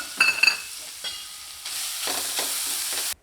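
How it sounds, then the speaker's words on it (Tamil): Beetroot sautéing in ghee in a kadai, a brief clink and spatula scrape followed by a steady hissing sizzle that cuts off abruptly, close with no talking. "இப்போ அதே கடாயில் கொஞ்சமாக நெய் விட்டு பீட்ரூட் பச்சைவாடை போகிற அளவுக்கு நல்லா வதக்கி விட்டுக்கலாங்க"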